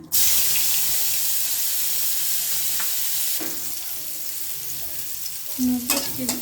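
Prawns and onion frying in hot oil, a loud, continuous sizzle with occasional clinks of a utensil in the pan near the end.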